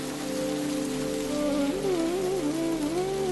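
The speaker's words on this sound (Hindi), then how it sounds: "जूनागढ़ पहुंचते ही हल्की हल्की बारिश की बूंदें हमारा स्वागत करती हैं" Light rain falling at Junagadh on the way toward Bhavnath, a soft continuous hiss of drizzle with a wavering melodic tone running over it.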